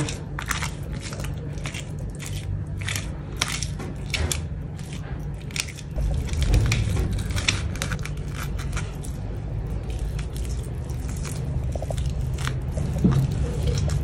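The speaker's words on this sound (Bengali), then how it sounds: "এইভাবে কেচে কেচে মাংসগুলো সব বের করে ফেলবো" A metal spoon scrapes flesh from the skin of a fish (fali) for kofta, a steady run of close, gritty crunching scrapes with no voice.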